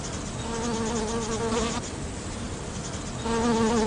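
Bees buzz around flowers in a close, continuous drone with a wavering pitch that dips briefly midway and then grows louder again, with no voices.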